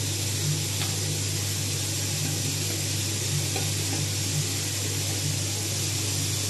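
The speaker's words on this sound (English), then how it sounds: "Then it's about time you can add in the onion. All the onion goes for this part." Chopped onion sizzling in a pan with oil while cooking a Chinese lunch, a steady, even hiss with faint crackles and a constant low hum underneath.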